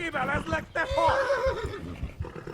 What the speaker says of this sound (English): Horse is gonna buck me off in a second.